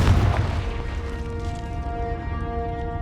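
A Confringo blasting spell explodes in Hogwarts Legacy with a heavy boom at the start, followed by a long ringing, tonal tail that fades slowly, loud and close with no talk.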